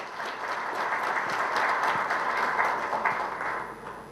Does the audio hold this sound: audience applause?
yes